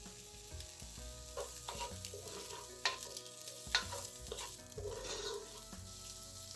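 Onion frying in about three tablespoons of oil in a pan, a continuous close sizzle with occasional stirring scrapes and a couple of brief sharp clinks, no talking.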